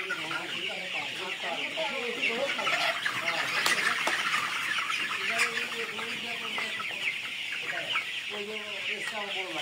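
Tiger-breed chickens clucking at night in their pen, a steady chorus of soft overlapping clucks and murmurs close by, with occasional louder calls throughout.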